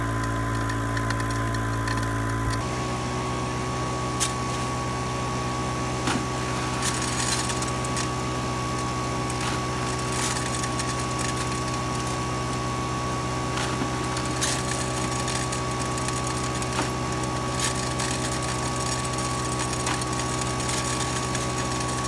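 A small engine powers a gold-prospecting dry washer in the Arizona desert, running steadily and close by with a constant drone and faint rattles and ticks over it, and no voices.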